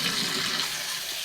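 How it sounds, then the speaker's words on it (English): Water runs from a sink tap, a steady, close hiss and splash that holds even throughout without pauses or voices. "And turn the water on"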